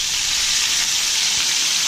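Loud, steady sizzling of pork chops frying in hot oil, close up and continuous with no talking.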